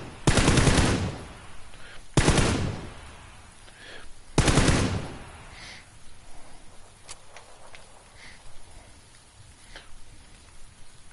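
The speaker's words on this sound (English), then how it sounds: "I'm gonna shoot this dude in the face." Video game gunfire comes in three loud, close bursts of rapid automatic shots over the first five seconds, followed by quieter scattered pops and clicks in the background.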